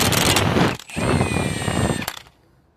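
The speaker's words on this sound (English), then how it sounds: "Also use the impact tool." An impact wrench works on the front hub of a 2006-2018 Toyota RAV4 during hub and bearing repair. It fires in two loud, close, whining bursts with a short pause between them, then falls quiet.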